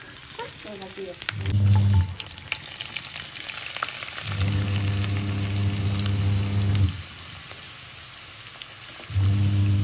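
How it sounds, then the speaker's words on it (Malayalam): Onions frying in coconut oil for prawn biryani, a steady broadband sizzle running throughout, interrupted by repeated low humming tones from a nearby appliance that come and go over the hiss. "ഉള്ളി പൊരിക്കാൻ പോവാട്ടോ അതിന് വേണ്ടി വെളിച്ചെണ്ണ ഒഴിച്ചുങ്ങാണ്ട് അതിലേക്ക് ഇനി ഉള്ളി ഇടണം"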